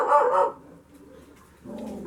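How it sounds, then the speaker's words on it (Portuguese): Dogs barking live nearby, a short burst of barks at the start, then a quiet gap before more barking and yelping returns at the end. "Esses cachorros aqui, assim, tudo ao vivo, né?"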